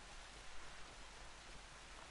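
Steady rain falls in the video game Horizon Zero Dawn, a dense, even hiss of downpour that fills the whole two seconds with no speech over it.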